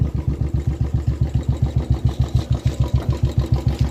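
Royal Enfield Bullet motorcycle thumping at idle after starting, a steady, evenly spaced low pulse of single-cylinder firing beats, close and loud, with no talk over it.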